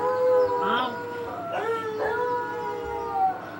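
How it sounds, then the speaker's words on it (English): A dog howls in drawn-out, wavering cries that rise and fall several times, fairly close and alone without talk. "I thought I heard the dog bark."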